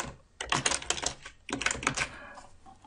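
Quick bursts of keystrokes clatter on a computer keyboard as a password is entered, two close rapid runs of clicks separated by a short pause, with no talking.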